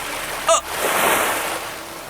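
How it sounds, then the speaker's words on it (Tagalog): Seawater slaps and splashes against an outrigger boat, a quick bright splash followed by a softer swelling wash of water that fades gradually, heard close with no talk. "may narinig akong paghampas ng tubig dagat"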